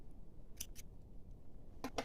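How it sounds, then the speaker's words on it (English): Two quick pairs of scissor snips cutting crochet yarn, close and crisp against a quiet room, spaced apart with a pause between. "we're going to chain 1 and cut our yarn"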